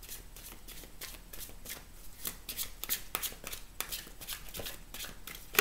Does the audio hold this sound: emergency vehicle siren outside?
no